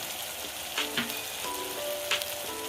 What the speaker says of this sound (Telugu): ఇవన్నీ కూడా వేసుకుని ఒకసారి ఇలా వేపుకుందాం